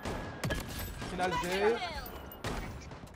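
Gunfire in the video game Blood Strike comes in short bursts, near the start and again near the end, while a player talks over the shots.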